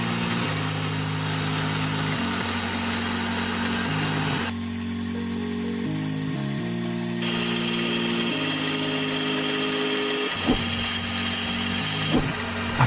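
Milling machine spindle cutting away waste stock on a dovetail puzzle part, a steady loud mechanical drone with shifting tonal hum that changes pitch several times, and a few sharp knocks near the end.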